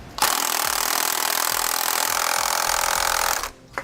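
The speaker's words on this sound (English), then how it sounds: "removing both of the nuts on the rear U-bolts. We're going to take these off using a 1 1/4 inch socket." An impact wrench with a 1 1/4 inch socket rattles loudly for about three seconds to remove the rear U-bolt nuts on a 1993 Spartan EC2 motorhome chassis, then stops with a brief whir.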